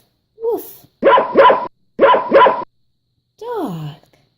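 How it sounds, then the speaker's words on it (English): A dog barks in two quick pairs, loud and close, with brief higher vocal sounds before and after in a children's animal-sounds setting. "A dog says, woof, woof."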